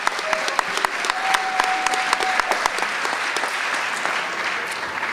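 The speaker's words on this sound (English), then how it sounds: "Let's have a round of applause for all the Ingold Award recipients." Round of applause for award recipients at a college athletics recognition ceremony, steady crowd clapping with a few sharp near claps standing out and a brief tone in the background.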